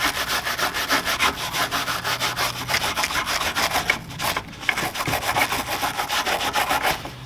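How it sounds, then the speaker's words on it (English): A brush scrubs old finish off a metal tool chest, a rapid steady back-and-forth rasp, close and loud, repeating in quick strokes with a brief pause midway. "even just scrubbing it with this brush and it's coming right off"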